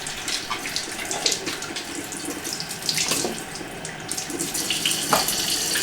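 Filtered water runs steadily from a kitchen tap over red peppers being rinsed, splashing unevenly against the produce and sink for several seconds without talk.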